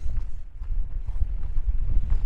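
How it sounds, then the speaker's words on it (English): Strong wind buffets a windscreen-covered microphone in rocky, trail-less Great Basin desert terrain, a continuous low rumbling roar with uneven gusting surges throughout. "It's also extremely windy right now."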